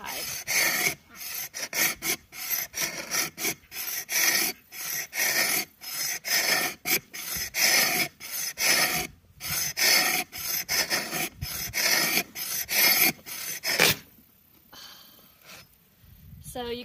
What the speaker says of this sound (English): really what you're trying to do is scrape off almost these curls of material for the hide.